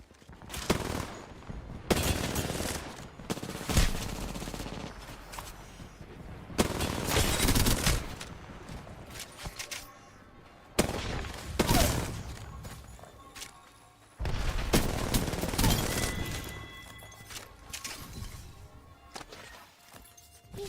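Gunfire in the video game Apex Legends, several loud bursts of rapid shots separated by short quiet gaps, with sharp repeated cracks and thuds.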